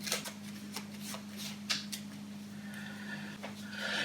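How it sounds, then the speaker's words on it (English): Playing cards are shuffled in quick, crisp riffles and snaps, close by and fairly quiet, over a low steady hum. "we'll give the cards a quick shuffle"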